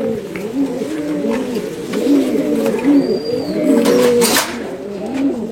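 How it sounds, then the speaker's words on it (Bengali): A male high flyer pigeon coos in repeated rolling, throaty phrases, one after another in a steady rhythm, close and clear with no talking. "এটা নর কবুতর"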